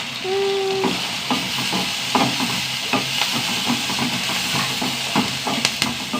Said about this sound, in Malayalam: തക്കാളി ഇട്ടിട്ടല്ലേ വഴറ്റുന്നത്